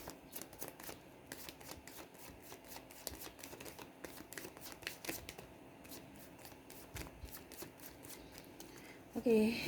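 Tarot cards shuffled and riffled by hand in rapid, crisp flicks and clicks that run steadily throughout, close up, with a brief louder rustle at the very end.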